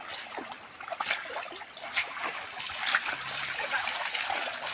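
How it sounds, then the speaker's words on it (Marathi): Water splashes and trickles onto bulls at a muddy ploughing race, with irregular wet spatters and dribbles close by over a steady outdoor background. "उडवा आता पाण्या अंगावरती"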